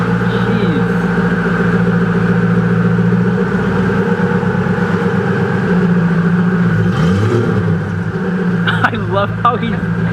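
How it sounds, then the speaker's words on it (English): A Koenigsegg CCXR Trevita supercar idles with a steady, throbbing burble, broken by a few short throttle blips, heard close with people talking over it. "I love how he's getting on the throttle a little bit."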